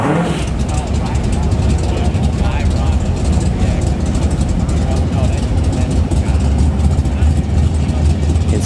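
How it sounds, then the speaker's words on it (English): Drag racing car rumbling loudly at a dragstrip test-and-tune session, a dense low engine roar with gritty texture that holds steady throughout, under crowd talk. "Is he doing a burnout?"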